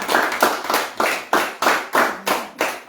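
A small family group claps in steady rhythm acclaiming the king during a revival prayer visit in Dabakala village, about nine crisp, evenly spaced claps, close and loud with no talk.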